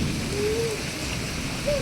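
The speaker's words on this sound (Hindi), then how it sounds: "बारिश तेज हो रही है" Heavy rain pours down steadily outside a home during a downpour that is flooding water into the house, a dense, continuous hiss that stays loud and even throughout.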